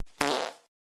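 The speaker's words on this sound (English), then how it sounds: "Farting bird." A single short cartoon fart blast from a farting bird in a Godot video game, one quick buzzy burst with a tiny click just before it, alone and fairly quiet.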